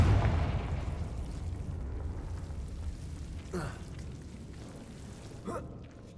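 A Confringo spell blast in Hogwarts Legacy, a loud low rumbling burst at the start that rolls and fades over several seconds, with a couple of brief whooshing effects later on.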